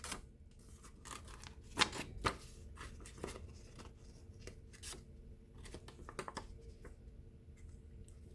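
Scissors cut paper for a Christmas tree cutout in a quiet room, with crisp snips and rustling as the sheet is turned and a few louder closing clicks near the start.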